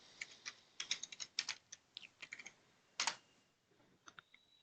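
A kubectl command is typed on a computer keyboard. Irregular, close key clicks come in quick runs with short pauses and a louder cluster near the middle, and no one speaks.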